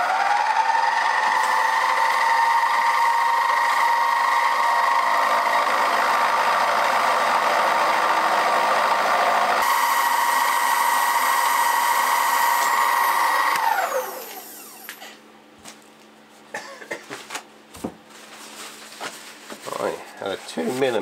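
A milling machine running a carbide insert face mill through metal at about 800 RPM with a 2 mm depth of cut gives a loud, steady whining grind for most of the clip, then winds down to quieter clatter.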